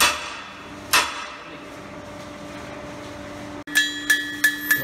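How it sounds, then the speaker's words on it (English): Riveting on an aircraft wing at a wing assembly station, heard as a few sharp metallic hammering strikes, one early and a quick series of four near the end, ringing over a steady workshop hum. "Rivet is occurring."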